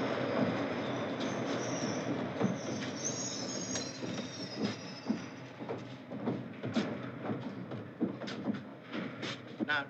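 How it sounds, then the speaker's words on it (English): A train rumbles past close by, wheels clattering and squealing on the rails with a steady, heavy roar throughout. "The train won't come through here."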